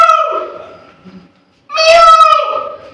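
A voice imitates a cat's meow twice, the second drawn-out and louder after a brief pause.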